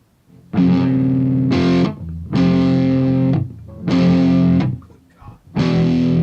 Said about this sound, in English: you need something with distortion